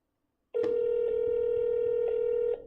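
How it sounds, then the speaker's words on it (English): A telephone call rings out to Jacksonville, Florida: a clear, steady tone rises suddenly, holds for about two seconds at an even level, then cuts off. "let's give him a call"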